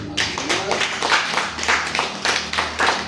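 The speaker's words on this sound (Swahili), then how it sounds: "Mpe Yesu sadaka ya makofi" Church congregation clapping as an offering of praise to Jesus, loud close rhythmic handclaps in quick repeated bursts, with a low hum underneath and no talking.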